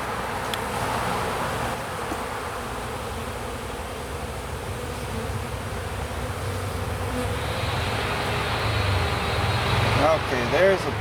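Honey bees buzz steadily over a hive frame during a spring inspection, a continuous close drone, with a person talking and faint engine noise in the background.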